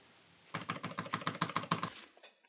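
Keys clicking on an LG Gram 2021 laptop keyboard, 16- or 17-inch Intel Evo model, in a quick even burst of about a dozen crisp close taps that then taper into a few softer strokes.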